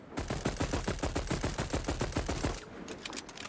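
SMG gunfire in the Voidtrain video game: a rapid, evenly paced burst of roughly twenty loud shots for about two and a half seconds, then it stops and the sound tails off.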